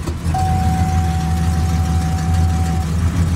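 A small block engine with an oil pressure problem idles steadily in the shop, a loud, even low rumble close by with a faint thin whine above it and no talking.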